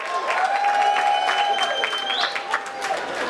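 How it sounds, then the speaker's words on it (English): Audience applause at the African Heritage reception hosted by the New York City mayor, steady clapping filling the room for a few seconds with crowd murmur and voices mixed in. "give him a round of applause."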